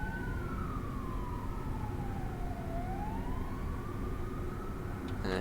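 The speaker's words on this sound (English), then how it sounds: "There you go, lots of sirens." A siren sweeps slowly down and back up in pitch over the constant rumble of a Class 378 train on the North London Line in London, from Train Simulator Classic, with a short clatter at the very end.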